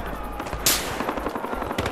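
Gunfire crackles through a Battlefield Hardline team deathmatch while snipers fire from the woods, with a sharp loud shot near the start and rapid rattling bursts continuing underneath.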